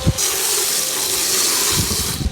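Water gushes steadily from a hose or tap into a concrete mix for a form, a loud continuous rushing pour lasting the whole moment with no talk.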